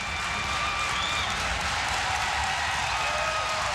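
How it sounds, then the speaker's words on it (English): Basketball crowd at an NC State vs Duke college game in 1991, a steady, distant wash of cheering and applause with a bright, hissy texture and no pauses. "The crowd is into the game."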